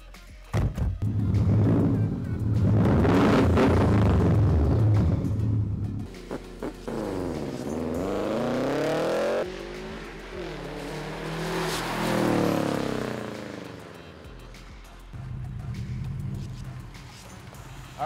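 A Subaru WRX turbo car revs and accelerates, its loud engine rumbling and climbing through gears with rising and falling pitch sweeps, heard from inside or close by, with brief shifts and thumps between pulls.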